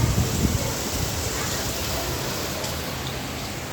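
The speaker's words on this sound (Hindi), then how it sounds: "जोरदार बारिश आ रही है, मज़ा आ रहा है एकदम।" Dense, steady rain from Cyclone Tauktae hisses continuously with a gusty rumble underneath, heavy rain driven by wind, loud and close throughout.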